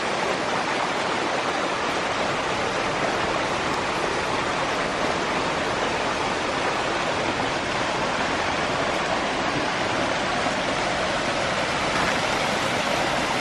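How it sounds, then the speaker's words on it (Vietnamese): A very small forest stream flowing in damp hillside terrain, a continuous dense rushing and splashing of water, steady and close with no pauses or talk. "Này là một con suối rất nhỏ thôi."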